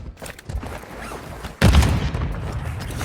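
A grenade blast in the mobile shooter Warzone Mobile lands with a sudden loud boom partway through, followed by sustained heavy gunfire and rumble, after a quieter stretch of scattered shots.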